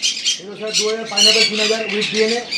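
Yellow-sided conures at a bird farm squawk loudly in repeated harsh bursts, close by and continuous, with a voice talking underneath.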